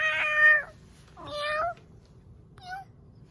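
A human voice imitates a cat, giving three meows, the first two long and drawn out, the last short and higher, with pauses between them.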